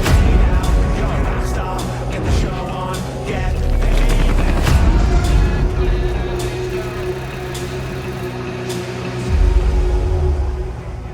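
The exotic Ouroboros SMG fires during a Paradise Lost incursion in The Division 2, rapid bursts over low booms and rumbling game noise, loud and continuous with brief lulls.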